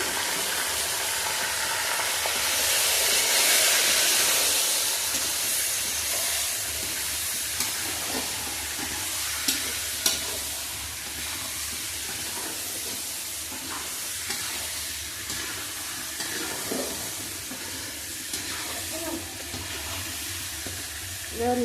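Chicken in a spice masala of salt, turmeric, cumin, Kashmiri chilli powder and ginger-garlic paste fries in a pan. A close, steady sizzle and hiss runs throughout, with intermittent scraping from stirring and brief faint voices.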